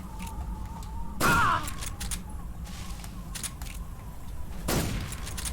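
Gunshots in the Metal Gear Solid 3: Snake Eater video game, two sharp loud bursts a few seconds apart over a low ambient game background.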